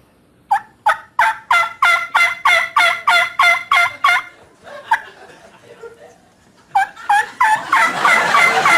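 A human voice imitates a hen turkey's springtime mating yelp, giving a rapid series of about a dozen sharp, evenly spaced yelps, then a few more after a pause, followed by loud laughter and crowd noise.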